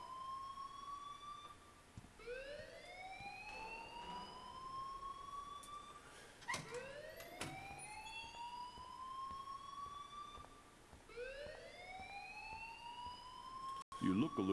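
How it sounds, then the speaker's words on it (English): Electronic alarm in the video game Life is Strange, a repeating rising siren-like whoop cycling steadily and fairly loud, with a few sharp clicks and brief game sounds in between. "please turn off that alarm since that's your job"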